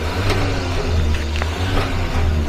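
A Hyundai car's engine is briefly revved as the throttle is pressed and let off, a steady low engine drone filling the whole stretch with faint mechanical ticks above it, close by.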